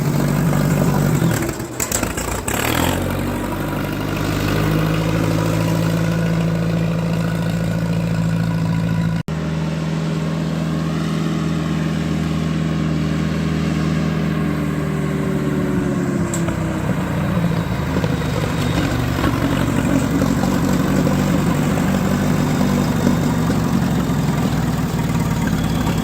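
A 1958 Oliver 550 gasoline tractor engine runs steadily and loudly up close, idling with a rough, uneven note and shifting slightly in pitch over about half a minute, no talk.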